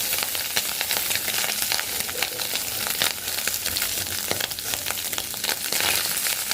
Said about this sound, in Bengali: এই যে মাছটা ভাজা হয়েই যাচ্ছে